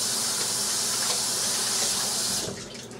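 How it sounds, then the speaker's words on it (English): Running tap water pours into a kitchen sink as hands are washed, a steady close splashing hiss that stops abruptly near the end. "Wash the hands."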